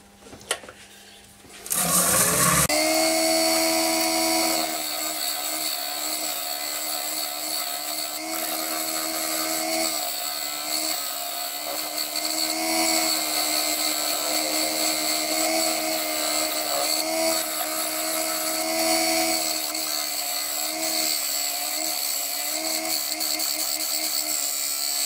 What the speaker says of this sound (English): Just using a little 10mm round carbide cutter now to get in here just to shape it where the foot's going to be